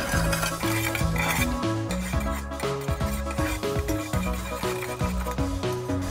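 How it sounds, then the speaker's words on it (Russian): A spoon scrapes and stirs steadily through sugar syrup in a pot over heat, bringing it to a boil with a soft, wet swishing, accompanied by music playing throughout. "Постоянно помешивая на огне, доводим до кипения и до полного растворения сахара."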